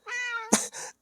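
A cat gives one close, clear meow that rises and drops, followed by a short harsher second cry, loud and alone.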